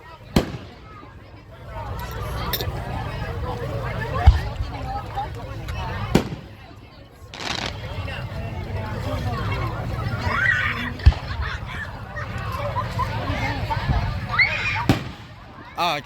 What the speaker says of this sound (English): these are Zambelli fireworks